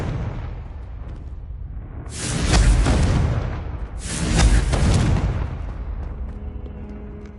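Two heavy explosive booms from the Confringo blasting spell in Hogwarts Legacy, each a loud broadband burst that swells and decays over about a second and a half, spaced roughly two seconds apart over a steady game-world background.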